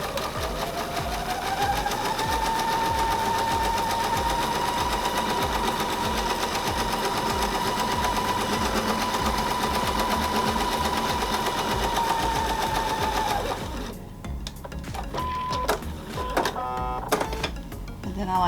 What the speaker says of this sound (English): you're going to sew all the way down that side.